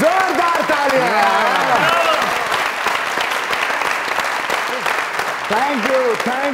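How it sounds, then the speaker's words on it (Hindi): Loud, dense audience applause at a Pakistani comedy show, sustained clapping throughout with singing voices weaving over it. "जोरदार तालियां।"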